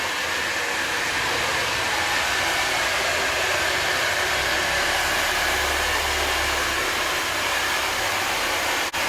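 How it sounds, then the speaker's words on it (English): Hair dryer blowing hair into a style during a hair tutorial, a loud steady whooshing roar running unbroken throughout, close with no talk. "you need to start drying it into that style"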